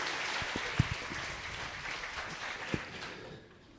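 Light applause from a conference audience welcoming a speaker onto the stage, a soft, diffuse patter of clapping with a few sharper claps standing out, fading toward the end.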